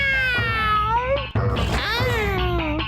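A cartoon cat meows in a long, whining, pitch-bending cry, loud and close, with a short break midway before the wail rises again, backed by music.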